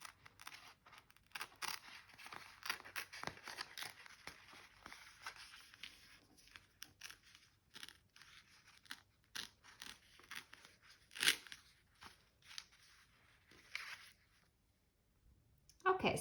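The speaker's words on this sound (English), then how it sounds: "I went ahead and tore around the edges and trimmed this top with scissors" Paper tears in quiet rustling bursts, followed by crisp snips of scissors trimming a journal cover, close and fairly soft, with brief pauses between strokes.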